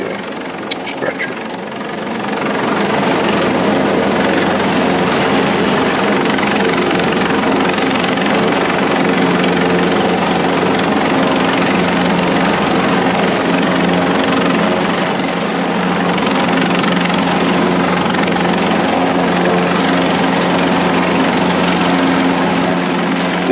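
Loud, steady roar of a medical evacuation helicopter's engine and rotor, close and continuous for the whole stretch.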